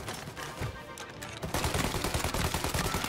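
Tommy gun fire in the game Mafia: Definitive Edition, dense rapid bursts of automatic shots that grow louder and more continuous partway through, heard close with little else beneath.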